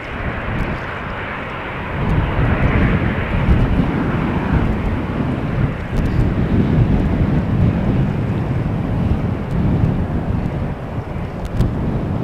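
A 31-year-old Delta Airbus A330-300 on its takeoff roll at Amsterdam Schiphol, a broad, steady jet roar, heard at a distance and mixed with gusts of wind on the microphone, swelling slightly after the first couple of seconds.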